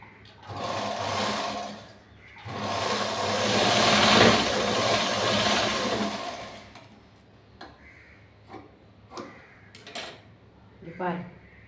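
A sewing machine stitching a joint seam on cut fabric runs in a long continuous whir for several seconds, then stops, followed by scattered clicks and handling knocks as the cloth is moved.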